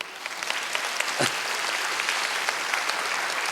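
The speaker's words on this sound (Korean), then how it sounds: "박수 그냥 해주세요" A church congregation claps steadily at a Sunday worship service, welcoming visitors, in a dense, even patter of applause, moderately loud indoors.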